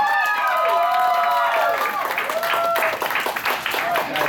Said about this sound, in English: let's give a round of applause, though